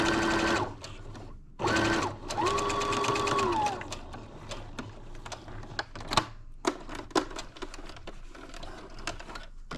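Sewing machine joining fabric pieces for a crazy quilt, several short rapid stitching bursts separated by pauses, then scattered clicks and handling noises, close with no talk.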